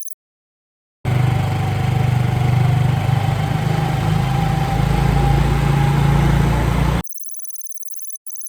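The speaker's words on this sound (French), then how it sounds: "On est avec notre petit scooter là" A small scooter engine idles and runs steadily up close in Taroko National Park, Taiwan, holding a constant low hum with a faint higher whine for about six seconds before cutting off.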